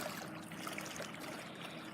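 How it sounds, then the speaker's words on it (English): Flood water streams steadily out of a hole, a continuous faint trickling rush heard from close by with no voices. "All of that water is coming out right here."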